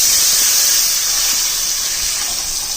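Tamarind and tomato pulp dropped into a hot oil tempering of mustard seeds, dried red chillies, turmeric and curry leaves, giving a loud, close, continuous sizzling hiss that stays steady throughout.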